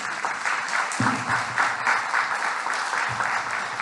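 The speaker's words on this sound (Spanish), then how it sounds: "Les pido que recibamos con un fuerte aplauso al doctor Oldair de Jesús Luna Cadena." An audience at a conference on the culture of peace applauds to welcome a speaker. The clapping is dense, steady and moderately loud, and it holds evenly for a few seconds.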